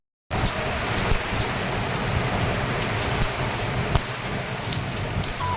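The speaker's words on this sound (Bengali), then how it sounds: "তো কিছুক্ষণ পরেই বৃষ্টি শুরু হয়ে যায়" Steady, dense rain patters onto an open rooftop at a restaurant in Gazipur, beginning suddenly after a brief silence and continuing evenly close by, with a few sharper drops and splashes standing out from the constant wash.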